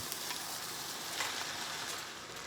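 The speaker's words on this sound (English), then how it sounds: "In goes this beautiful corn." Corn kernels hit a hot pan with crawfish and butter, raising a steady, close sizzle and frying hiss that holds evenly with slight swells.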